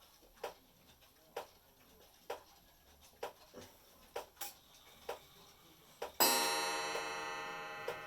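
A wall clock with a chime rod first ticks steadily and faintly for several seconds, then strikes once with a bright metallic chime that rings on and slowly fades.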